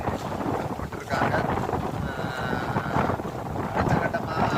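Strong storm wind buffets a beach during heavy rain, a steady roaring rush with gusty swells and microphone buffeting that persists loudly throughout without any speech.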